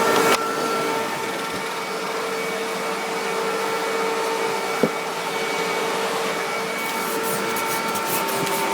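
A Hoover WindTunnel bagged vacuum cleaner runs steadily nearby, a constant whining hum with a faint click midway.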